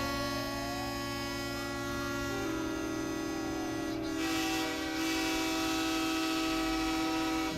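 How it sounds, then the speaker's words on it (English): A loud, steady horn with a train-like multi-tone chord blares continuously and close, changing pitch partway through over a low rumble, with no voices. "that horn you just heard that sounded like a train."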